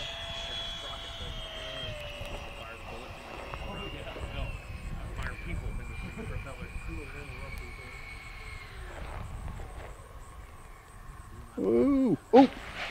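A redesigned FF117 V2 EDF electric ducted-fan model jet whines steadily as it flies in toward the field to land, the tone shifting as it passes, with people talking over it and a few sharp bumps near the end.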